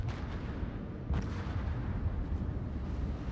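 The warship Sun Yat-Sen fires a gun salvo in a naval video game: a deep, booming burst of artillery fire, with a sharp blast about a second in, that rumbles on afterward. No one speaks.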